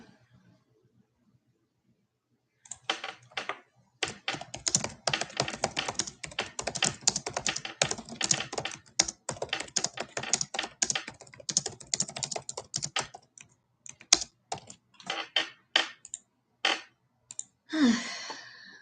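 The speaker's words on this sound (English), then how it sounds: "I apologize if everybody hears me click-clacking in the background. I'm like typing stuff on my laptop" Rapid, irregular clicking of laptop keys in bursts, close and fairly quiet, with brief pauses between flurries of typing.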